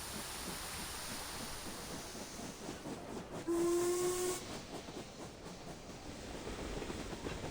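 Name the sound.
steam train whistle as the train starts moving, video game Reverse: 1999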